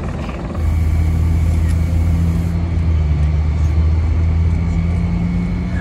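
Classic cars, including a Peugeot 504 coupé and a Volkswagen Beetle, idle and rumble loudly at the Dakar Rally start on Saudi Arabia's Red Sea coast, with a steady engine drone and low hum.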